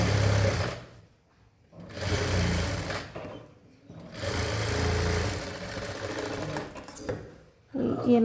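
A sewing machine stitches a semi high neck blouse in bursts, a loud close rapid whirring run that stops, restarts, and pauses again several times.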